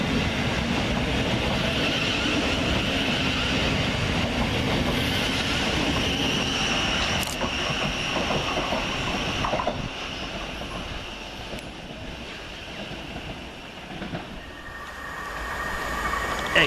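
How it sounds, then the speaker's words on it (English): Class 700 Govia Thameslink electric train at Preston Park station, a sustained loud rumble of wheels and traction passing close by, with a brief squeal and clicks as it gradually fades. "So we'll get started at Preston Park with 700-037, working the 1237 Govia Thameslink service from Bedford to Brighton."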